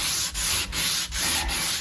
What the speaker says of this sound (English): sanding back